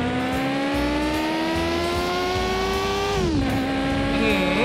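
A car engine in the driving game Mon Bazou revs hard and steady, pitch climbing smoothly before dropping sharply as it shifts, then rising again, loud and close throughout.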